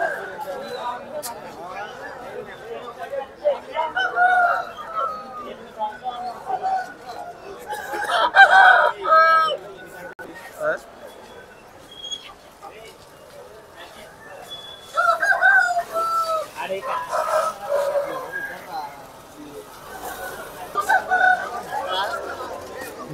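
Roosters crow again and again among clucking chickens at a busy outdoor poultry market, the calls loud and near, rising in bursts over a steady murmur of crowd chatter.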